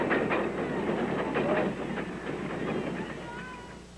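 A narrow-gauge train in India clatters along the rails toward its terminus at Nabadwip Ghat by the Ganges, with rhythmic wheel clicks and rumble under a talking voice, loud at first and easing slightly.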